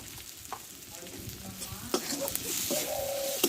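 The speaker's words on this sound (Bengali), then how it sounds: "দিয়ে একসঙ্গে মশলাটা ভালো করে কষে নিব" Spices with turmeric and salt fry and get stirred in a pan for a Bengali okra dish, a close sizzle with a few scrapes and taps.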